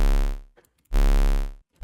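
Two synthesized saw-wave bass notes sound alone, each a loud, buzzy, harmonic-rich tone lasting about half a second, separated by a short gap with faint clicks.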